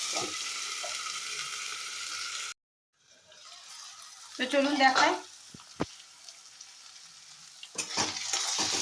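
Tomatoes fry in a covered pan on a low gas flame while cooking muri ghonto, a soft hissing sizzle that drops out briefly, then returns with clinks and someone speaking.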